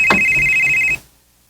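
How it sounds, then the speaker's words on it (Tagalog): A telephone rings once in a domestic radio drama scene, a steady electronic tone lasting about a second before cutting off into silence. "Si Junjun maning nanawag"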